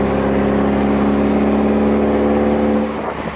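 A car engine roars loud and close during its first drive on the street, a steady raw, throaty drone with strong harmonics that holds for nearly three seconds before easing off.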